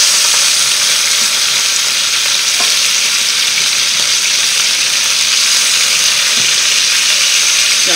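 Chicken pieces sizzle loudly in a hot pan as they are turned for coconut curry chicken, a dense, steady crackling fry with a couple of faint utensil taps, close up and with no talk.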